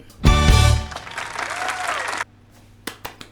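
Applause and clapping erupt suddenly, loud and close, at a Hairspray (2007) watch-along, holding steady for about two seconds before cutting off, then a few sparse taps follow in near quiet.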